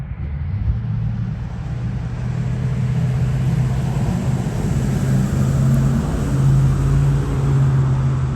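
A steady roadside vehicle rumble swells and fades with a low engine drone as cars pass nearby, continuous and moderately loud with no talking.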